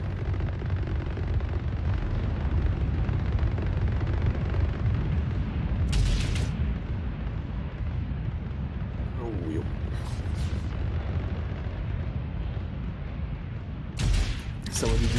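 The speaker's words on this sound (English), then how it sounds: "Someone's firing missiles" Missiles firing and exploding in the space game Starbase during a PvP station event, a continuous heavy rumbling roar with sharp bursts layered on top, loud throughout, with voices talking over it.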